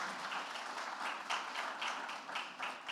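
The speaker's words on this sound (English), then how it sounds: "Ça mérite une bonne main d'applaudissements." Audience applause at an arts economy summit, a steady wash of many hands clapping at moderate distance, rising and falling slightly, with no speech over it.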